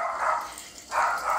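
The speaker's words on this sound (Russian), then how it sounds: "Он себя слышит и не понимает, откуда гавкает" Dog barking indoors at home, two short bright barks separated by a brief pause, fairly close and moderately loud, with no talking.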